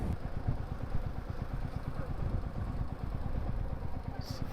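A motorcycle engine idles on a coastal ride near Dhanushkodi, between Rameswaram and Kanyakumari. The close, steady low putter runs throughout without pause.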